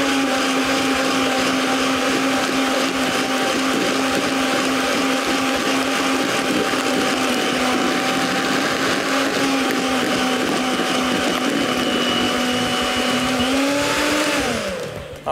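A blender whirs loud and steady, mixing coffee brownie batter with baking powder, a constant motor drone holding one pitch before winding down at the very end, with no voices.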